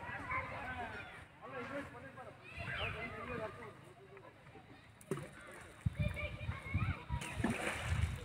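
Stones are tossed into water at a stream in Mokhada ghat, making a few soft splashes and sloshes beneath people talking nearby.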